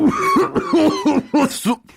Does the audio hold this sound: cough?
yes